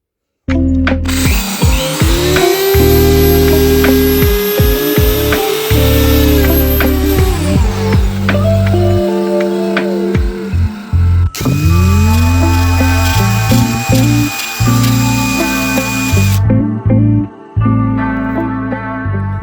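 A loud power sander whirs steadily for most of the time, pausing briefly and restarting, its pitch shifting as it works against a wooden stair step of oak and plywood.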